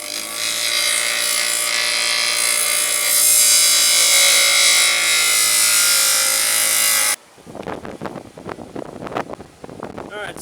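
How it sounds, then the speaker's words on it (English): A bench grinder grinds down bumps on a piece of wood for a homemade fish gaff, a loud continuous whirring rasp lasting several seconds before cutting off into quieter handling noises. "piece of wood to the bench grinder again and see if I can knock down these bumps"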